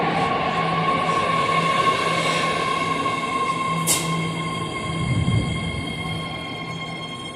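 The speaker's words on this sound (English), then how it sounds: "Now boarding at Colma. This is a yellow line train to Antioch." Yellow line train bound for Antioch at Colma station, a loud close rumble of rolling rail cars with a sustained metallic whine and a brief screech of wheels, no voices heard.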